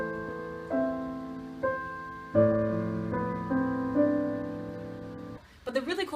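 Piano played in ballad style, slow sustained chords struck one after another and left to ring and fade, a gentle, clear melody line on top, followed by a brief muffled rustle at the end.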